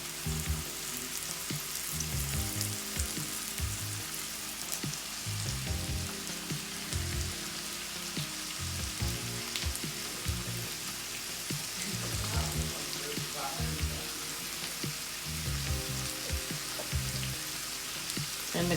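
Ham steaks and onions frying in a pan, a constant moderate sizzle and crackle with irregular popping and spatter, steady throughout with no talking.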